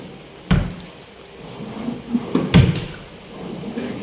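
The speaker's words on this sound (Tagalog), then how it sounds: "Ito yung drawer." A drawer in a house, set beside a small home altar, slides and knocks shut, with a sharp bump near the start and another a couple of seconds later over quiet room tone.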